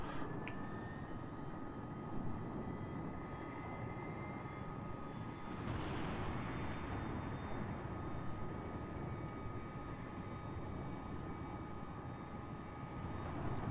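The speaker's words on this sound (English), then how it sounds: "We have a good start on engine 1." Aircraft engine spooling up during a pilot cockpit start sequence, a steady broadband roar with low rumble and a faint rising whine that swells in the middle, continuous and fairly near throughout.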